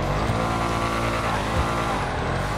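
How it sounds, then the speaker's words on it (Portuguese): A Lamborghini Huracan's V10 engine revs loud and close in GTA 5, a dense sustained roar with a dip and fresh rise near the end, no voices over it. "Vamos ouvir o motor dele."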